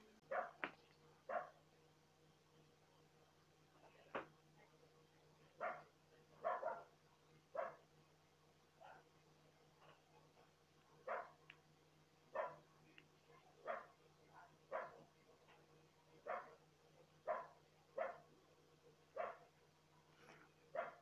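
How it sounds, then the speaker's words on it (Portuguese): A neighbour's dog barks repeatedly at a distance, single sharp barks at fairly regular intervals over a steady low hum. "Mas o cachorro tá latindo muito"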